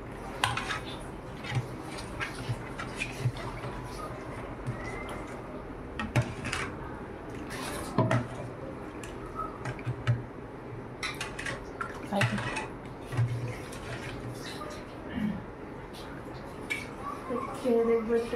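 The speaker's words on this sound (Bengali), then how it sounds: "ভালো করে গুলে নেবো যাতে তলা চিনিটাও একটু ভালো করে গুলে যায়।" A spoon stirs sugar into roasted mango sherbet, clinking irregularly against the glass with soft liquid swishing between the taps, close and moderately quiet over a long stretch of steady mixing.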